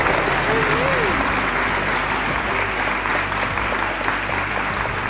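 Raucous applause from a wedding crowd in Oklahoma, dense and sustained clapping that fills the room throughout, with a few voices mixed into the cheering.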